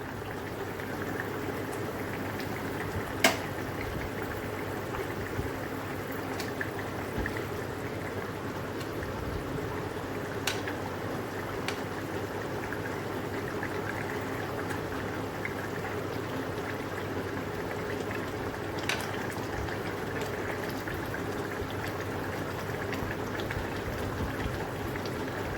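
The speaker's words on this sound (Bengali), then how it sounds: "এবার আমি সেদ্ধ হতে দেবো।" Fish curry simmering in a pot on the stove, a steady low bubbling and hiss that holds even and unbroken, with occasional faint clicks and no voices.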